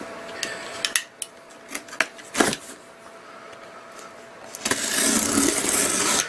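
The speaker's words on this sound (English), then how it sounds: "We'll open up the box here." Unboxing a Cat Pump 1CX013, a 0.13 GPM pump: scattered crisp cardboard and packaging clicks and scrapes, then a sustained louder rustle of paper or plastic near the end, close by with no talking.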